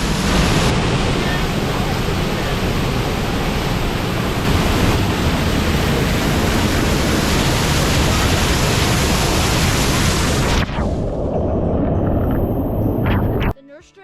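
A river near Hidden Falls at Nerstrand Big Woods State Park in Minnesota, swollen after heavy overnight rain, rushes in a loud, steady roar close by that holds for the whole stretch, then cuts off near the end.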